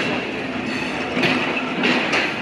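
Rupsha Express, a long intercity train hauled by WDM3D diesel locomotive 6541, rolls along in a steady close rumble with a faint clatter of wheels and a couple of brief swells in loudness.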